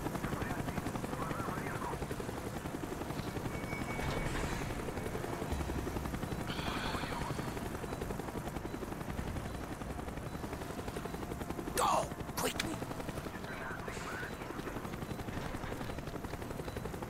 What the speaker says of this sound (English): Avoid the helicopter spot.